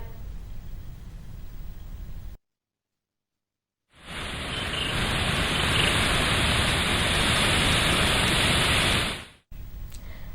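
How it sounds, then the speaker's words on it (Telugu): Heavy, incessant monsoon rain in Adilabad district makes a steady, dense hiss that swells loudly for several seconds, with abrupt cuts into silence and back. "ఎడతెరిపి లేకుండా కురుస్తున్న వర్షాలతో"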